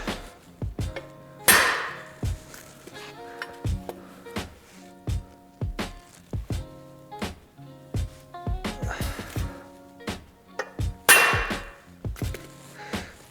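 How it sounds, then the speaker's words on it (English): Repeated sharp metallic hammer strikes on a centre punch marking holes on a BMW E30 jig, close and loud, coming in irregular bursts with short pauses between groups of taps. "So, got my punch, and just going to centre punch"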